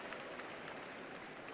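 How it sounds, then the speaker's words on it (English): A crowd in the stands at a women's basketball game, cheering and clapping in a dense, even roar heard at a distance and fairly faint. "To a cheer from the crowd."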